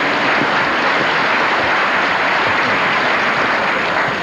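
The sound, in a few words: audience applause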